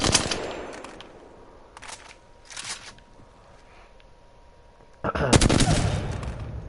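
An automatic gun fires with strong recoil in a video game. Short bursts of rapid shots come at intervals over a quiet background, ending in a louder, sustained burst.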